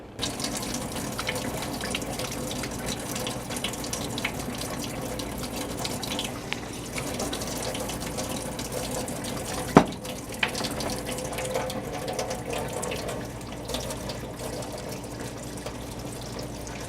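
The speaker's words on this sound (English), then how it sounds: "It says you have to use one of these and rinse the dust off it first." Tap water runs steadily into a strainer of quinoa being rinsed in a sink, a close, continuous splashing rush with one sharp click partway through.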